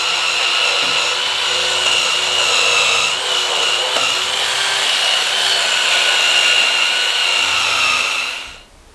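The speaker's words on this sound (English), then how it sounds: "I've just got this drill drum sounder thing." A power drill with a drum sander attachment whirs steadily with a rough, abrasive sanding hiss for several seconds while sanding a handmade window, loud and close, before cutting off at the end.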